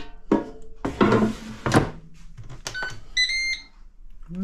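A Ninja air fryer starting up gives several short electronic beeps among a few knocks and clunks of handling, close and fairly quiet, with no voices.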